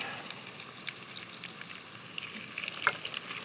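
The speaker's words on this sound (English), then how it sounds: "So I'll add the crayfish at this point." Crayfish fry in a pan with smoked paprika and a splash of lemon juice, giving a soft, steady sizzle with faint crackles and small pops, quiet and close with no talking.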